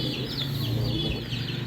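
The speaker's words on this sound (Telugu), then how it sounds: "మొత్తం కోళ్ళు." Chickens cluck and chatter continuously in a village yard, several birds close by calling over one another amid steady outdoor background noise.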